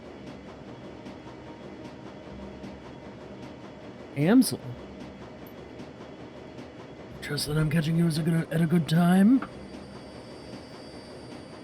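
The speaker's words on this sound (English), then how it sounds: "I'm on the train back to Crow's Bazaar" Steady rumble of a train riding along the tracks in the video game Shadowrun: Dragonfall, a continuous low background under two brief stretches of voiced dialogue.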